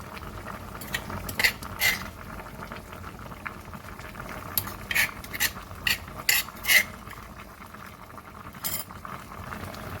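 Pounded onion and pepper go into a pot of banga stew (Ofe Akwu), with a steady low bubbling under scattered metallic clinks and scrapes of a spoon against the pot, several in quick clusters, moderately close and fairly quiet.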